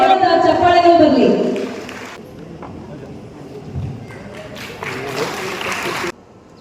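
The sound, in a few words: audience giving loud applause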